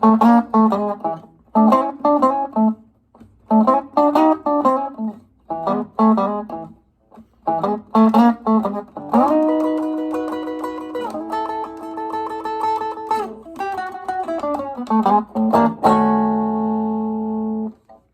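Electric Chicago blues guitar plays a pattern of choppy plucked phrases with short gaps, building into sustained ringing notes and a final held chord, clear and close with no talking.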